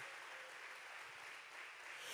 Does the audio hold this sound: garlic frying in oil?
no